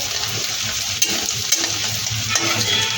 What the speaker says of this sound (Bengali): এইভাবে উল্টো পাল্টে আমি লাল লাল করে ভেজে নেব